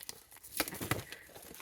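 Plastic plushie packaging for a dessert-themed toy is peeled open close by, giving a short run of crinkling and tearing with two sharper rips in the middle, and no talking.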